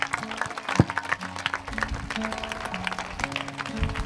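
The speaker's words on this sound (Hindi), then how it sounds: "जोरदार ताली बजाएंगे" A congregation claps at a Christian healing service, with scattered, loose clapping under a low hum and faint background murmur, moderately loud and uneven.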